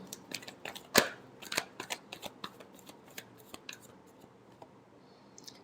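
Tarot cards being shuffled by hand, a quick series of soft riffling snaps and flicks with one sharper slap near the start, close and fairly quiet with no talk.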